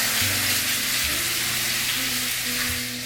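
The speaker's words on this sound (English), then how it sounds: "And this is to give it the sear." Steak searing in a hot pan gives a loud, continuous close sizzle and crackle, with faint shifting and stirring noises underneath.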